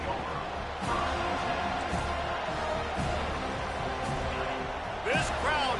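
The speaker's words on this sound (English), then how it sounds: "This crowd trying to show them what it's going to be like all day in this house" Stadium crowd in the NCAA 25 college football video game, a steady loud roar of many voices filling the background throughout, with a brief swell and whistle-like cries near the end.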